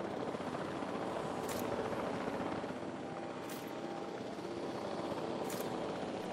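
A helicopter in a dinosaur video game drones in a steady, dense rotor roar that continues throughout, with a few brief higher bursts standing out at regular intervals.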